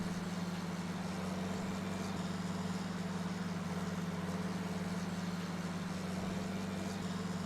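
A tractor engine idles steadily in the Farming Simulator 19 video game, a constant low rumbling drone that holds unchanged throughout, loud and with no voices.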